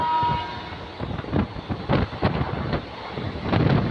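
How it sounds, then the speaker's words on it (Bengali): The Howrah–Rampurhat Shahid Express runs on the line, heard from on board as a loud, rhythmic clatter of wheels over rail joints beneath heavy wind rush, with a brief horn tone at the start. "আর ট্রেন এখন স্কিপ করছে বন্ধুরা মধুসূদনপুর"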